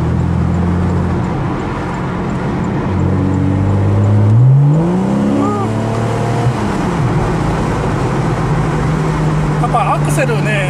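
Porsche 911 Carrera S Cabriolet engine pulling hard under acceleration, a steady loud drone that sweeps upward in pitch midway as the throttle opens, with voices talking over it inside the car.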